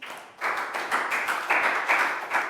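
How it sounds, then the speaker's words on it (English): Small class of primary pupils clapping for a classmate during an English lesson, a close, uneven burst of hand claps with distinct rhythmic pulses lasting a couple of seconds. "Big round of applause for Pak Bung."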